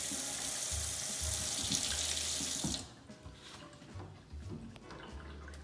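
A kitchen sink sprayer runs water into the basin in an apartment being readied for new tenants, a steady loud hiss that cuts off about halfway, followed by quieter drips and trickles.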